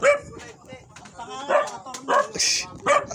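A dog barks in several sharp bursts close by, mixed with people talking in the background.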